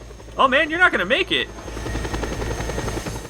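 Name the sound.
helicopter in video game Just Cause 2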